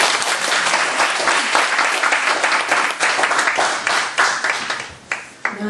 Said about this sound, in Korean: 우리 서수지 자매님 와서 간절할 때 박수로 환영하겠습니다.